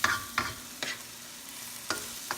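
Tomatoes go into a frying pan with onions, garlic and butter, heard as a few short sizzling bursts and stirring scrapes spaced irregularly, close and fairly quiet.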